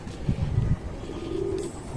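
Wild pigeons coo in a low, soft burst early on, then a quieter second call later, with no talking over them.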